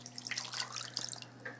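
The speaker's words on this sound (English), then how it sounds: "add 8 cups of water to the crock pot." Water splashes into a crock pot in a home kitchen, a steady trickle with small drips over a faint hum, no talking.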